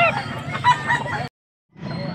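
Chickens cluck and call amid a busy, noisy market background in Bocaue, Pampanga, with a brief drop to silence before the sounds resume.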